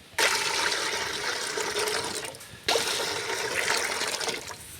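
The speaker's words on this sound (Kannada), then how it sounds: "ಬ್ಯಾಳಿ ಕುದಿಯಾಕ ನೀರು ಇಡೋಣ ಈಗ" Water poured into a cooking pot to boil lentils (dal), two loud rushing bursts of pouring separated by a brief pause, close and strong with splashing.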